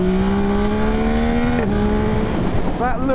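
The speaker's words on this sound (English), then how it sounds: "That little pop as you change gear." A 2024 Yamaha MT-09 motorcycle revs hard, its engine note climbing steadily, then a quick pop as a gear is clicked up at high revs, followed by renewed acceleration; loud and close.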